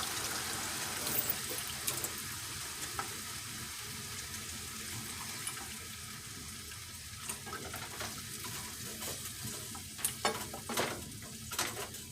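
Chicken nacho filling with taco seasoning stirred in a pan, a continuous sizzle with scraping strokes that grow busier toward the end, heard close and alone.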